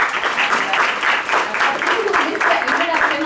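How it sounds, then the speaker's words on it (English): Audience applause at a grand rounds lecture on amblyopia management: steady, dense clapping from a seated crowd, continuous and fairly loud throughout. "So big applause for them."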